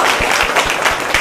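A classroom of students applauds a pupil, a dense, close burst of many hands clapping with rhythmic pulses, no talk.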